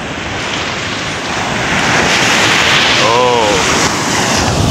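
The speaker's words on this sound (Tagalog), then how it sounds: "Malakas ang alon ngayon" Rushing surf of strong ocean waves and wind roar loudly near the microphone, with a brief voice exclamation over the constant wash of waves.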